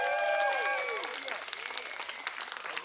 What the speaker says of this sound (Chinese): 好歹也为了这个路程一个掌声好吧。